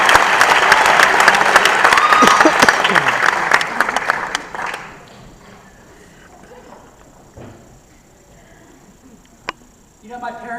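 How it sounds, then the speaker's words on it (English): Audience applause for Stephen Ramos of Architecture for Humanity at a Charleston Pecha Kucha presentation: a loud, dense burst of clapping for about five seconds that fades out, leaving a quiet room with a few faint stray sounds. "keep that applause going for Stephen Ramos and Architecture for Humanity"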